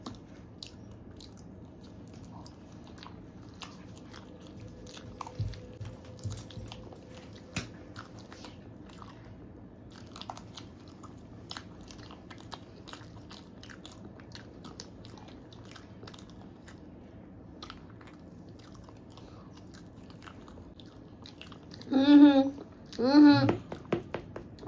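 Cake eaten during an eating challenge: faint bites and chewing scattered beneath ongoing chatter, with a pair of louder, closer bursts near the end.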